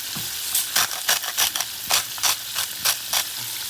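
Green tomatoes fry in a pan with a soft, steady sizzle, broken by about ten short scraping bursts as the slices are stirred or nudged, close by and with no talking.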